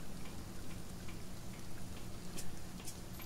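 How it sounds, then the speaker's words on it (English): Steady rain falls in the survival video game Sheltered, a dense, even patter with faint ticking drops throughout, moderately quiet and with no talk over it. "Oh, rain's over."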